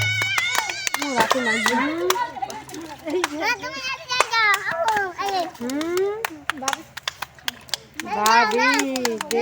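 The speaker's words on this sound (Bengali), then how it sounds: "হাতে তালু দাও সবাই" A group claps hands together during a women's balloon-bursting challenge, where balloons are popped with the feet. The scattered, overlapping claps mix with lively children's voices and chatter throughout.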